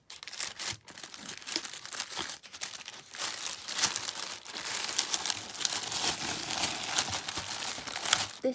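Paper wrapping on a package filled with paper hearts crinkles and tears continuously, close and fairly loud, with dense rustling that swells toward the end and no speech.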